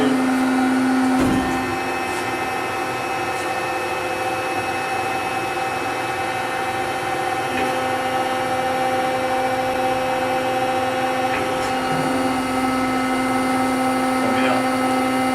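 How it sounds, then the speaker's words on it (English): The ram of a Lauffer RMT 100 high-speed straight-side hydraulic press moves with a steady whining hum from the hydraulic unit. A few faint knocks mark its travel, and the sound holds at an even level throughout. "I'll bring the ram down and you can do a quick overview here."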